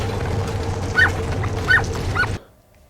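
A dog left shut inside a car lets out three short, sharp yips roughly half a second apart over a steady low rumble, then everything cuts to near silence.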